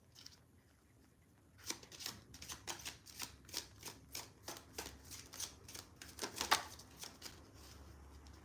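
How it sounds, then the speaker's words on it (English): Tarot cards are shuffled and drawn close by, quiet papery riffling and flicking in quick irregular bursts after a brief near-silent start, with no talking. "Okay, so they said pull 2 cards."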